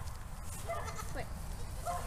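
Goats being herded into a barn for a CD/T vaccination bleat, with a few short, wavering calls standing out over a steady low rumble of background noise.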